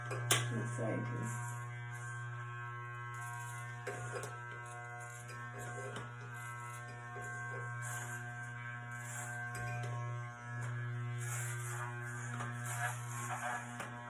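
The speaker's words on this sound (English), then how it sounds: "keep going all around my head until I don't hear very much of the hair getting clipped anymore" Electric clippers buzz steadily while shaving hair off a head, a constant close motor hum running almost unbroken throughout with slight shifts as the clippers move across the scalp.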